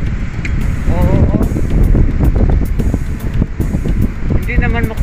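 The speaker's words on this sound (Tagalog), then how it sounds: "sobrang maingay kasi sobrang hangin. Oo, mahangin talaga guys dito." Strong wind roars and buffets the microphone throughout while people talk over it.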